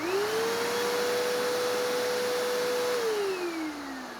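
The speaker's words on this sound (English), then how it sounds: "next we're going to step it up to a 12 amp vacuum" A 12 amp vacuum cleaner running steadily at full speed, a loud close whine with a rising pitch at start-up and a falling pitch as the motor spins down near the end, alone without talk.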